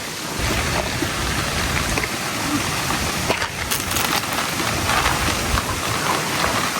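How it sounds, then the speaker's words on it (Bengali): Heavy rain and a windy storm beat down on a village house, a dense, steady roar of downpour with scattered drips and patters on surfaces, loud and continuous, with no speech. "যে বাতাস তুফান শুরু হয়েছে"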